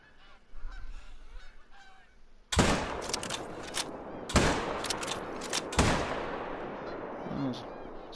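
Three loud, sharp rifle shots at a whitetail buck in a hunting video game on a foggy coast, each crack followed by a rolling decay, with a soft murmur of background sound before the first shot.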